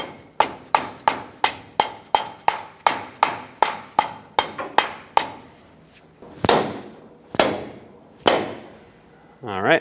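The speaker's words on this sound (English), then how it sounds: "You can take a small rubber mallet, just help it go in all the way by tapping it." A small rubber mallet taps a front ball joint on a 2000–2005 Ford Excursion, coated with silicone paste, into place. A fast, regular run of sharp knocks gives way to a few slower, spaced blows.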